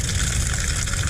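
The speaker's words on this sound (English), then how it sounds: "let some water drain out" Water rushing steadily from an opened garden hose spigot valve while pipes are drained for winter, a continuous close hiss and gush.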